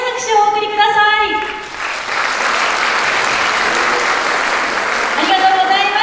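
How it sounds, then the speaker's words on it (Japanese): A crowd in an indoor concert hall at a YOSAKOI Soran festival claps loudly and continuously, the applause swelling between stretches of announcer speech heard at the start and end. "それでは改めて朱雀の皆さんに大きな拍手をお送りください"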